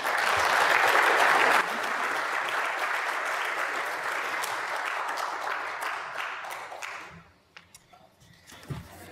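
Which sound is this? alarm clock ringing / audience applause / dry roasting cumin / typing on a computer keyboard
audience applause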